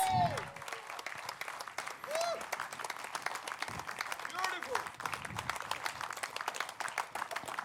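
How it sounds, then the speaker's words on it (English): An audience at a press event for an MMA reality series applauds the fighters, a fairly quiet, steady clapping patter with a voice speaking intermittently over it. "A huge round of applause for these warriors"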